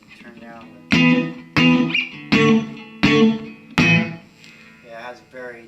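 An electric guitar played through an amp with its tone breaking up, without a pedal, sounding five separate strummed chords with a gritty, choppy edge, followed by a few quieter single notes, loud and close.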